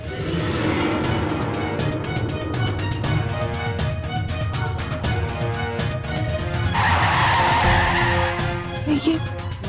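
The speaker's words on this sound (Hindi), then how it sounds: "ये बाहर गाड़ी की आवाज, और इस समय लगता कोई आ गया है।" A car arriving outside, heard as engine noise with tire squeal and skidding in a dramatized scene, rising louder toward the latter part, accompanied by rapid ticking and musical tones.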